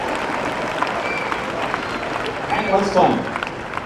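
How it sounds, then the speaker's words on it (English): Crowd at the Calgary Stampede Super Dog Show clapping for a young volunteer, steady applause that swells toward the end, with someone speaking over it. "Give her a round of applause, everybody."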